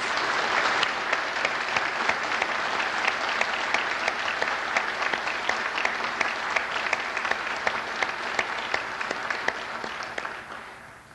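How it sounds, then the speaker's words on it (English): An audience at a 2002 fall convocation ceremony applauds the graduates with sustained, dense clapping that stays loud and steady for about ten seconds before tapering off at the end. "Please join me in a round of applause for our graduates."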